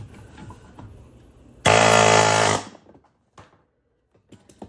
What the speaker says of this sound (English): now we can switch back to the air chisel